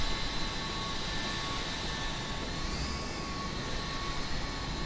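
Jet airliners departing Kelowna airport in Microsoft Flight Simulator, a steady broadband roar of distant engines with a faint whine, continuous and unchanging throughout.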